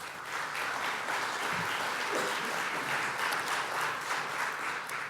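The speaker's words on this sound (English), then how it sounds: "Please give the panel a round of applause." An audience applauds a panel at a chamber of commerce business event, a steady, even wash of many hands clapping that holds at a moderate level throughout.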